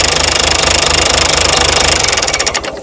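An old Perkins turbo diesel engine, cut off at the injector pump, knocks in a steady loud rhythm close by, then falters and starts winding down at the very end.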